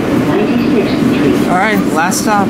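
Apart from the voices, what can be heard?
southbound subway train passing on Second Avenue line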